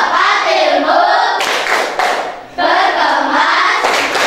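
A primary school class performs a rhythmic clapping routine together, many hands clapping in fast unison with brief pauses and restarts, loud and close in a classroom.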